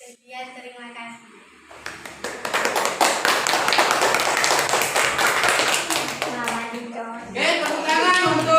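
An audience at an Indonesian classroom teaching presentation bursts into dense, lively hand clapping for about five seconds, bracketed by a voice speaking before and after.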